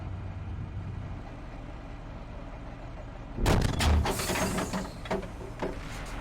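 In the video game Steel Beasts Pro, a tank cannon fires a single loud, heavy blast that breaks over a low, steady engine rumble, followed by a rolling echo that fades slowly.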